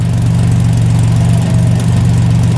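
A Ford Capri idles steadily with a bandage wrapped over a hole in its exhaust, giving a loud, even, low rumble that runs without a break and with no talk over it.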